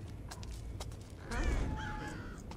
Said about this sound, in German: Ja, da ist ein Vogel.